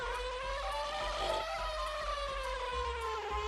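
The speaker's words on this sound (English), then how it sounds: "Because the bee can fly." The flying bee transformation in Banjo-Kazooie, a continuous high, insect-like buzz whose pitch wavers as it moves, steady and alone with no voices.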